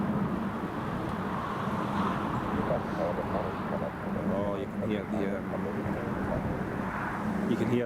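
A Singapore Airlines airliner passing over Newcastle Airport on a windy stormy day, a steady broad engine roar mixed with wind noise, with a person talking over it.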